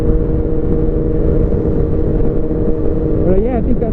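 Engine of a 2013 Kawasaki 636 motorcycle running steadily and close, a constant loud drone with a brief rise in pitch near the end, with no voice heard over it.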